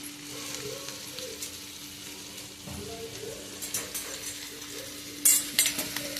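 Onions frying with curry leaves as a tempering in a pan for a bottle gourd and drumstick gravy, a steady close sizzle with soft stirring scrapes and a few louder clinks near the end.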